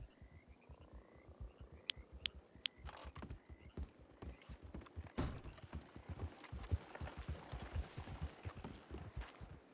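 Horse hooves clip-clop steadily in the Western roleplay game The Frontier RP, a quick rhythmic stream of close, faint knocks growing busier toward the end.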